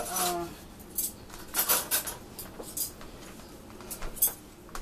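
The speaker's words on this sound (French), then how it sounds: "vous cherchez les fourchettes ou les cuillères que vous mettez en bas, comme ça" Metal forks and spoons being handled in a kitchen while fish is cooked, faint scattered clinks and rattles in irregular bursts against a quiet background.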